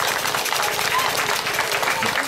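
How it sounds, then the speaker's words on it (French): Dense crowd applause at a congress event in Cameroon, a continuous wash of clapping with voices mixed in. "Je voudrais demander aux uns et aux autres de pouvoir applaudir"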